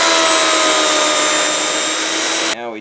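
A power tool whines loudly and steadily while cutting through test boards clamped together, running for about two and a half seconds before cutting off abruptly and spinning down.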